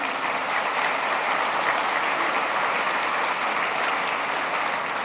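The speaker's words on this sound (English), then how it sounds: "let's give them a round of applause if you would" Steady, full audience applause at a convention hall gathering, a dense wash of many hands clapping evenly at moderate loudness for several seconds with no talk over it.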